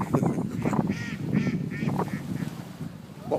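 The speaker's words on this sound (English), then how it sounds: "What was that? Ducks, Wall." Ducks quack in a series of nasal honking calls, moderately close, repeated at an uneven pace over a murmur of outdoor background noise.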